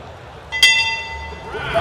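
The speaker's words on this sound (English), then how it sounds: "There is the bell." A single bright, ringing strike of the bell opens round three of a lethwei knockout bout in the ring, its tone lingering briefly over the arena's background noise.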